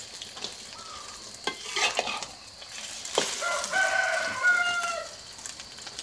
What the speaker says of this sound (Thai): สาวหม่องทอดไข่เป็ดกับไข่ไก่ผสมกันจ้ะ